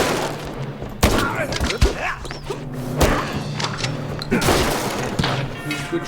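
Sniper rifle shots ring out in the Mouse P.I. for Hire video game, several sharp loud cracks spaced irregularly amid game noise, with a voice talking between them.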